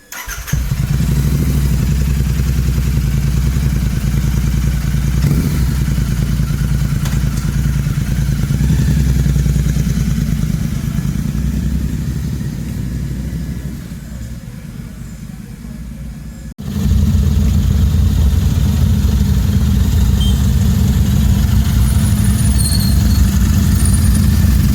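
Royal Enfield Interceptor 650 twin running loud with its exhaust baffle removed, a deep, throaty idle right up close that starts abruptly, dips slightly, then surges back to a heavier rumble for the rest of the run.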